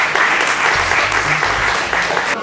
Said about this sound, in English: So one big round of applause to Sewa Diwali for this wonderful initiative.